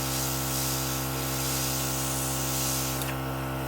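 Temptu 2.0 airbrush compressor spraying eyeliner makeup, a steady close hiss with a constant motor hum underneath that runs without pause and thins out near the end.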